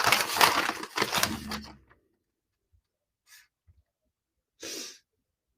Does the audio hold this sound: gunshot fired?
no